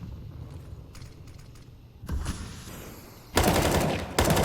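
Pistol gunfire in a Counter-Strike match on the Mirage map, heard as faint scattered shots at first, then a loud burst of rapid fire near the end.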